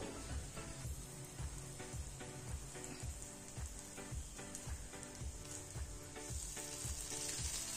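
Masala pav bread toasts in a pan with a continuous close, crackling sizzle, accompanied by a rhythmic series of soft thumps or pressing sounds repeating roughly every half second.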